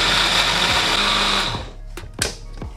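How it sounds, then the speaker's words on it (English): A blender whirs loudly and steadily as it purées a sauce mixed with water, then winds down, leaving a few clinks and bumps as the motor stops. "Cover this up and blend until nice and smooth."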